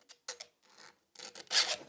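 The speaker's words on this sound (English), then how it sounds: "Usually, if you sharpen your chainsaw pretty often, 2-3 times, 2-3 strokes will be more than enough." Hand file sharpening a chainsaw chain, giving a series of close, dry rasping strokes in an irregular rhythm with brief pauses between them, the last stroke the loudest and longest.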